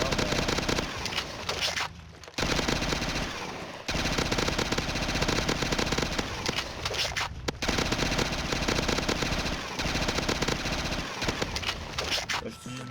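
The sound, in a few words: machine gun fire in The Sims video game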